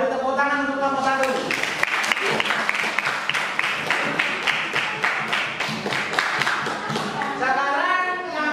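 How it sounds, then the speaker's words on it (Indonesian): Classroom applause for a student group breaks out after the talking stops and runs for several seconds as dense, near clapping, with people speaking before and after it. "Nah, beri tepuk tangan untuk nomor 1."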